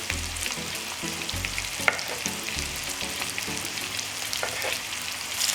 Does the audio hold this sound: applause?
no